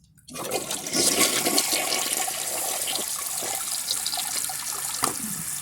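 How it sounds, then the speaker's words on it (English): A 1974 American Standard Cadet toilet flushes loudly up close, a sudden rush of water that keeps swirling and gurgling steadily. "I'll just do another flush and see how it does"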